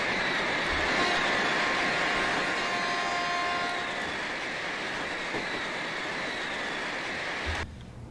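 Shinkansen high-speed train in a Train Simulator game on the Tohoku line, running with a steady rushing roar and faint high whine, fairly quiet and continuous, cutting off just before the end.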